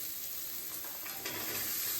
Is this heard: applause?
no